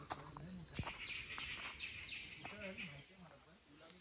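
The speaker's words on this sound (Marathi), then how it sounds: "पक्ष्यांचा आवाज येतो एकदम मस्त." Birds chirping steadily in the background, with high tweets repeating throughout and faint, distant voices now and then.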